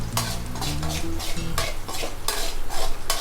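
Ingredients are stirred and sautéed in a wide pan for prawn noodles, with a continuous sizzle and frying hiss broken by repeated scraping strokes of a utensil against the pan, close and fairly loud, with no talk.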